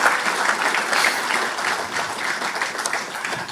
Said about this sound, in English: St. Lucians, give them a round of applause,